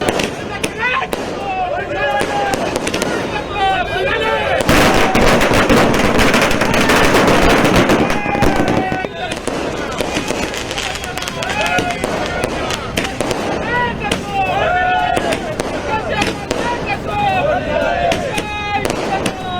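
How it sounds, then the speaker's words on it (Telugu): Loud, dense bursts of firecrackers crackling and banging in rapid succession at a political party celebration at Telangana Bhavan, a continuous din with voices shouting over it. "తెలంగాణ భవనంలో బాంబులు వేల్చి లీడర్లంతా మస్తు సంబరాలు చేసుకున్నారు"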